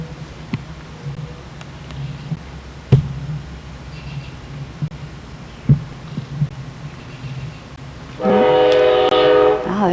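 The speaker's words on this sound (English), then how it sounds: "Oh, there's the train." A train passes at a distance with low rumbling and clanks, then its horn blares loudly in a sustained chord near the end; a few faint background voices and handling noises come and go.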